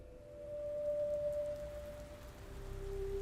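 Steady rain from a narrated horror story set in Chicago, a soft continuous hiss of drops on hard surfaces with a faint sustained tone running through it, low and even throughout.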